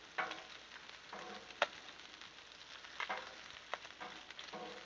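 Bacon frying on a Blackstone griddle gives a faint, steady sizzle with scattered spatula clicks and scrapes.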